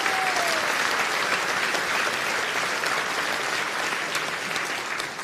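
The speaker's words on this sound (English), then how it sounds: "Big round of applause there." A crowd at a Reform party rally in West Sussex gives sustained, dense applause that stays loud and even throughout, then eases slightly at the end.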